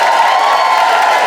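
A comedy club audience cheers and applauds a female comedian in a loud, dense wash of clapping and whoops that holds steady for the whole moment.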